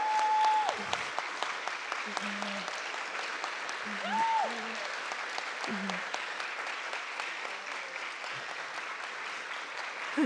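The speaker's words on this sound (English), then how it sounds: "So can we all stand, if you're able, and give Mrs. Rosie Peterson a round of applause?" A standing audience at a diversity awards ceremony gives sustained applause, a dense steady clapping that carries on throughout, with scattered voices and a few brief whoops over it.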